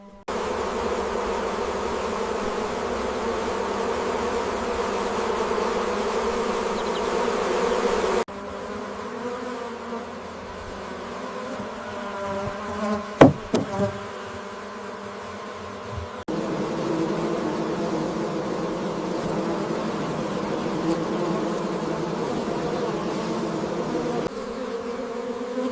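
Honey bees buzz densely around their hives in a continuous, close drone that shifts in pitch and level, with a brief louder passing buzz midway through.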